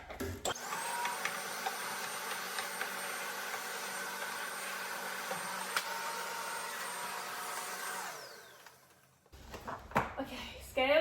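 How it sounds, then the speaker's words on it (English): Vacuum cleaner running in a kitchen while a drawer is cleaned out, a loud steady whine lasting about eight seconds before winding down, followed by a few clunks and handling noises. "So let's vacuum it out, get rid of any little bits, and then give her a clean."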